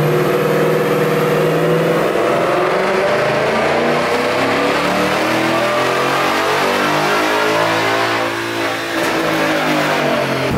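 A Ford Mustang S550 engine with intake, X-pipe and tune roars at full throttle on a dyno continuously, its pitch climbing steadily through the revs in one loud sustained pull.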